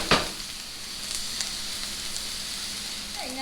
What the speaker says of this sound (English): we're going to add our onions and we're going to saute them probably about 3 or 4 minutes